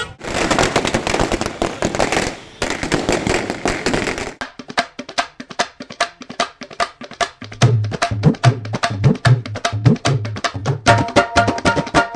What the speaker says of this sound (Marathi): फटाक्यांच्या आतिषबाजीमध्ये कार्यकर्त्यांनी जल्लोष साजरा केला